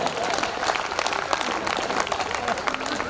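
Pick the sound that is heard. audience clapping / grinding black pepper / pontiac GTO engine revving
audience clapping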